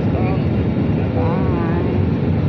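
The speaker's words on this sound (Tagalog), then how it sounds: "Ready for takeoff." An airplane takes off, heard as a loud, continuous broadband roar with a rising engine whine, close and steady, under a faint murmur of voices.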